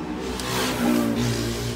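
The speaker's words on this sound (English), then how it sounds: "That's a noisy motorbike." A loud motorbike engine revs up and holds, a rough buzzing roar passing fairly close.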